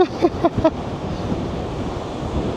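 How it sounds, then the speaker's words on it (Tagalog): Strong wind in Israel roars and buffets the microphone in a steady broadband rush, shaking the camera, with a few short tonal calls near the start before the blustery noise carries on alone. "Sobrang lakas ng hangin."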